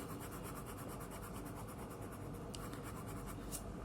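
Pencil sketching and shading on paper, with continuous dense scratchy strokes going around and filling in areas, close and steady throughout with no talk.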